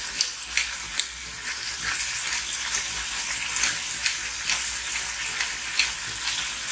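Pork rendering in a pan until brown gives a steady, close sizzle with a dense bed of frying crackle and small pops throughout, with no talking.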